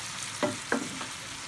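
Bottle gourd (upo) cooking in a pan, a low sizzle under two quick close scrapes of a spoon stirring, then a softer third scrape, no talking.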